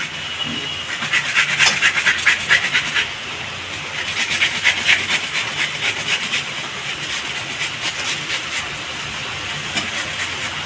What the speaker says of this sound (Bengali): ক্যাপসিকাম কেটে রেখে ঘষে দেব